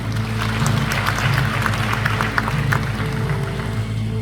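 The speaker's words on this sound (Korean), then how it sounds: "박경히 박수 한번 부탁드립니다" Audience applause at a book launch event in a city arts centre's main auditorium in Yangsan, steady sustained clapping from a large crowd over a constant low hum.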